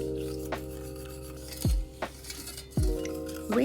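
Sugar, water and saffron are stirred in a pan over medium heat for thandai, heard as close spoon scrapes and clinks against the metal in a few uneven strokes; no one speaks.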